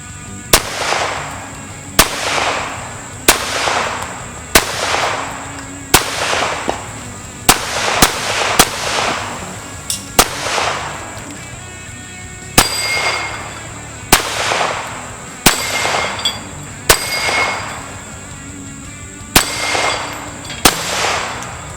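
An Extar EP9 9mm pistol fires hollow point ammunition, about fifteen loud sharp shots at a steady pace of one every second or so, each with a metallic ring and brief echo.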